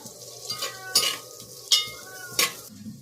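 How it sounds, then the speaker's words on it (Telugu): Chopped onions frying in a pan, a soft sizzle broken by a few sharp scraping stirs against the pan, close and fairly quiet. "ఈ కట్ చేసి పెట్టిన ఉల్లిపాయలు బాగా ఎర్రగా వేయించుకోవాలి"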